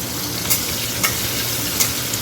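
Egg and bread fry loudly and close up in a hot pan, a dense continuous sizzle broken by a few sharp clicks and scrapes of stirring, with no talking.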